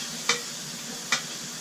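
Two short, crisp sizzles as ham is stirred and browned in a hot pot, each a brief hiss followed by quiet background frying.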